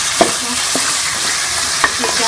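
Chicken pieces frying with browned onions in a karahi, a loud dense sizzle close up with a couple of sharp spatula clicks, and no voice.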